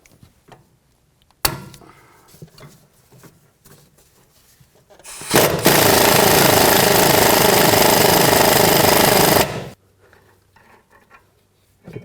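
An impact gun rattles loudly and steadily for about four seconds while spinning the sway bar link nut on a 2004-10 Toyota Sienna, with softer ratchet and tool clinks before and after.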